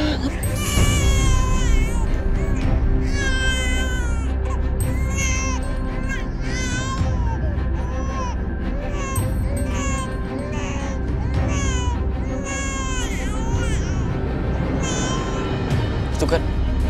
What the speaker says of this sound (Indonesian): Itu kan suara bayi itu.